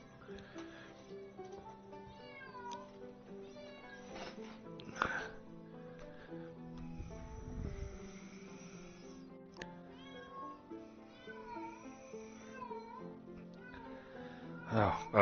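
A house cat meows several times from another room, the calls rising and falling over a steady bed of game music, with one louder bump partway through.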